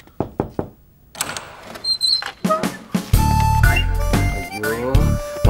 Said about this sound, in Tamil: கதவை தட்டு.